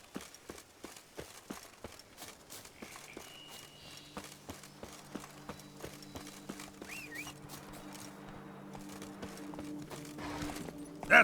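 Roach, a horse in The Witcher 3, gallops with evenly spaced hoof beats that quicken and grow a little louder over time, faint against a quiet, low background drone.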